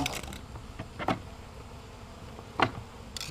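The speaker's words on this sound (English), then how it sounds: "we're going to show you how to dump these bees that he's been vacuuming up" Bees vacuumed up during a hive relocation buzz in scattered bursts, with a faint steady drone beneath and a few sharp louder spikes close by.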